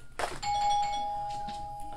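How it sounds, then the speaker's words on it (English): A single indoor doorbell chime rings out clearly at home, a sustained electronic tone lasting over a second with faint room noise around it. "Uh-oh, my doorbell."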